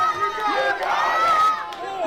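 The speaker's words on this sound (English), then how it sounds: "You hear the crowd willing Love Dog on emphatically." Wrestling arena crowd cheering and shouting, a loud swelling wall of mixed voices with whoops rising mid-clip, close and energetic.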